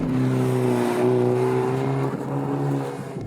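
Turbocharged car pulling in second gear around 3,500 RPM as boost builds, a steady, loud engine drone that rises slightly and eases toward the end, with no talk.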